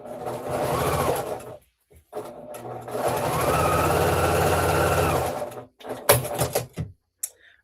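A sewing machine stitches a quarter-inch quilt seam in steady, continuous bursts, running close and loud with short pauses between runs, followed by a few brief clicks and handling sounds.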